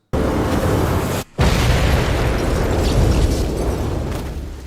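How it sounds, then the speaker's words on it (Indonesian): A massive, sustained explosion roars with dense broadband noise and deep rumble, briefly cutting out before the blast and debris noise continue loudly. "Ledakan besar menghancurkan mobil dan membunuh beberapa preman sekaligus"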